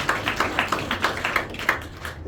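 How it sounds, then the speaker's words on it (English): Audience applause for a volunteer at a magic show in a Nashville house of cards venue, a small crowd clapping steadily with distinct sharp claps scattered through, moderately loud and close, with no talk over it. "A round of applause for Alice."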